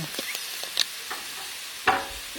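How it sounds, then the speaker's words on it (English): A steady crackling hiss of a cheese-topped quesadilla sizzling in a pan with a little water added, with a few soft clinks and scrapes over it, close and moderately loud. "Just listen to that sizzle."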